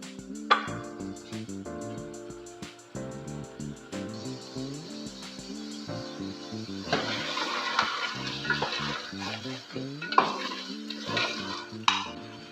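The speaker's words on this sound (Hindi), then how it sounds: "अब इतना चिकन को भूनेंगे।" Pieces of chicken sizzle and fry in oil in a pan while being stirred, with a spatula scraping and clinking against metal over soft background music.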